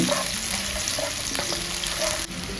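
Chopped shallots sizzling in hot oil with a constant crackling fry, broken by occasional scraping knocks of a stirring utensil against the pan.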